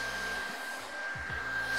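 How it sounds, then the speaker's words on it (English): A heat gun runs continuously with a steady, close airy whir and high tone while curing clear eco epoxy on the rail of an agave surfboard, with a few soft handling bumps. "we plug the heat gun on or in"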